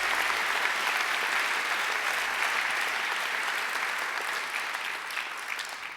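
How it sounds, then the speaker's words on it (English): A large audience claps at a Macquarie University graduation ceremony, producing dense, sustained applause that holds strong throughout and eases slightly toward the end. "I think Justice Bergen needs another great round of applause."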